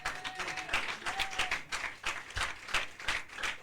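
Church congregation clapping together in a steady, rhythmic series of soft bursts that repeat through the moment, fairly quiet and without talk.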